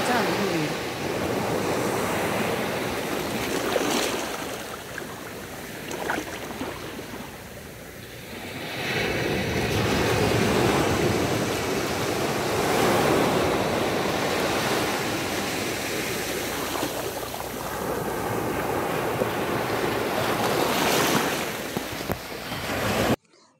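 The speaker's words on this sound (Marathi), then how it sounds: "मी इथे समुद्राच्या लाटांचा आवाज रेकॉर्ड केलेला आहे" Sea waves break and wash onto Palm Beach at Manori, Mumbai, a loud continuous surf roar that swells and recedes in slow surges, with wind buffeting the microphone throughout.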